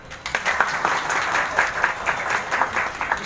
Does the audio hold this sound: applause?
yes